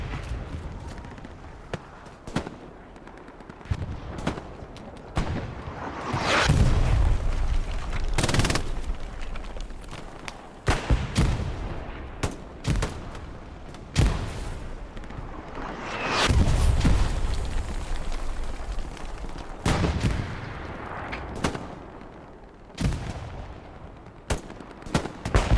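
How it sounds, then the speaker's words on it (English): Artillery fire in a competitive video game match: repeated heavy booms and explosions mixed with bursts of gunshots and machine-gun fire, loud and sustained, with rumbling blasts building and fading. "Artillery is a bitch"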